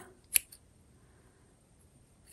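Scissors snip the yarn ends of a herringbone single crochet blanket: one crisp close cut, a fainter click just after, and another snip at the very end, with quiet in between.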